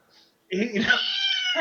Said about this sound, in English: Oh, yeah, here's my cat.